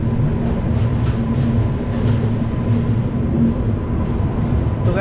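Trains at the new SMVT railway station in Bengaluru produce a steady, loud rolling rumble with a faint rhythmic clatter that continues unbroken throughout.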